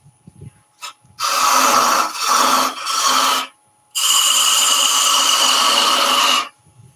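A bowl gouge takes slicing cuts in softer timber spinning on a wood lathe while wooden baby toys are turned: a brief tap, then three close, loud scraping passes, a short gap, and one long steady cut, with no talk.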